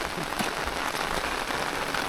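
Steady rain falls outdoors in a rural Thai village, a dense, continuous close-up hiss of drops striking surfaces with no break and no voices.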